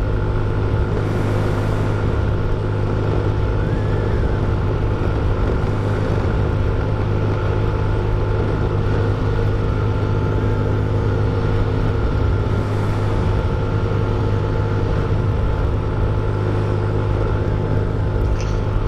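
A scooter engine drones steadily and loudly as it climbs a hill at over 60 km/h, a continuous close motor hum with wind rush and no talk.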